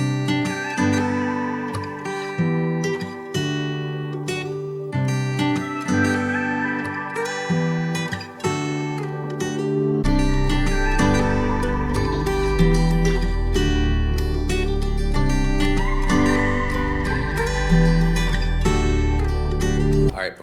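Layered guitar beat loop with piano, Rhodes and pad chords, a full-band sound played continuously; a deeper low end thickens the mix about halfway through.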